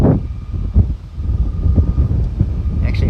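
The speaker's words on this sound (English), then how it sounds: "Pretty windy." Gusty wind buffets the microphone outdoors beside a telescope, making a low, rumbling roar that swells and dips for about three seconds, with no speech.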